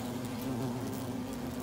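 European hornets buzz around a nest, a dense, steady drone close by that carries on unbroken through the moment.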